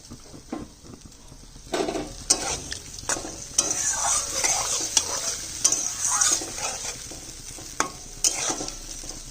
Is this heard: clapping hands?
no